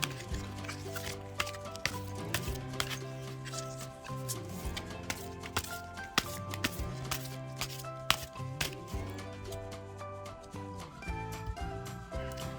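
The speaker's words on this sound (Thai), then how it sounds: "ขออนุญาตจับไพ่สักครู่นะคะ" Tarot cards drawn and shuffled with quick, rapid riffling snaps and taps under a soft musical background, close and fairly quiet.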